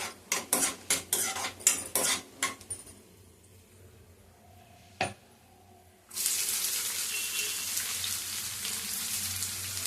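Cashews in a pan, starting with a rapid series of loud metallic clinks and scrapes, a quiet pause with one sharp knock, then a sudden steady frying hiss that continues to the end.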